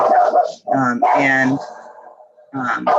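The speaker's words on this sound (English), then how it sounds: "now my dog wants to bark" A dog barks and whimpers near the microphone while people talk during a school board meeting, the yips and barks mixed in among and between the voices.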